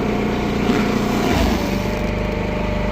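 A hay baler's engine drops from a higher steady drone to a lower idle partway through, a continuous close mechanical rumble with no talking.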